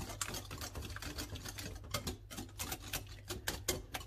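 A spoon stirring a cheese, sugar and egg brownie mixture in a bowl, with rapid, even scraping and tapping strokes, close and faint, steady throughout with no voices.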